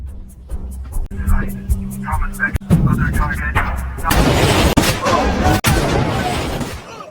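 Sharp gunshot cracks ring out among loud blasts and rumbling explosions, with a voice speaking under the chaotic battle noise.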